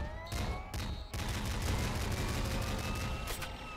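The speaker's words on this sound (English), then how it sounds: "Hyper machine gun." Hyper machine gun in the Nuclear Throne Ultra Mod video game firing a dense, nonstop burst of rapid electronic gunshots, loud and close throughout with no pauses and no talking.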